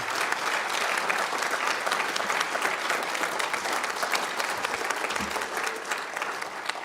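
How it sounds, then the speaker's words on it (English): Sustained, loud applause from a school audience at a senior awards night, steady clapping filling the hall for about seven seconds with no talking over it. "If we could give them a round of applause, I think that would be good."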